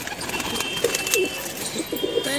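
A Punjabi flying pigeon in a fancier's loft coos softly in a few low, rounded calls spaced through a faint background hum, with no talk.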